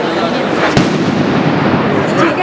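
Nighttime mascletà firecrackers from a Valencian-style display on Carrer de les Illes Canàries, heard as a dense, continuous roar of rapid bursts with one sharper crack standing out, loud and sustained throughout.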